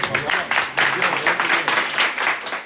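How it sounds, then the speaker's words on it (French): A crowd applauding continuously, with dense overlapping claps at a steady, fairly loud level. "Applaudissements"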